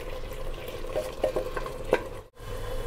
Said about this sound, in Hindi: इसी के लिए मैं इसको 2-3 मिनट्स इसको भूनूंगी हाई फ्लेम पर